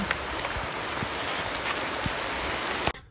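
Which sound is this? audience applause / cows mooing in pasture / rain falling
rain falling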